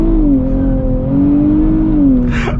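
A 2023 Nissan Z with automatic transmission drives a canyon road, its engine a steady, loud drone from inside the car with a rising and falling tone, continuous throughout with a brief hiss near the end.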